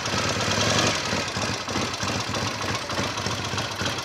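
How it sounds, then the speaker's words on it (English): A Norton Commando motorcycle engine idles up close in a workshop while the clutch is pulled in and it is clicked into gear. The running is steady and loud with a rapid, even mechanical pulse and no talk. "when we pull the clutch in, I'll just put it into gear"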